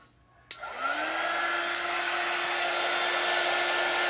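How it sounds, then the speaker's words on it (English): A hair dryer drying ink on a chalk transfer screen clicks on and quickly rises to a steady, close whirring blow that holds evenly to the end. "But I am going to dry that a little bit more."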